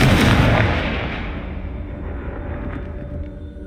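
A Confringo blasting spell explodes in Hogwarts Legacy, one loud, close boom with a heavy rumble that slowly fades out over a few seconds.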